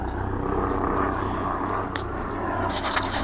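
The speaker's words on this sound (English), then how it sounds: "helicopters all day" A helicopter flies overhead, its steady broadband rotor and engine drone filling the outdoor space continuously and fairly loud, with no talking.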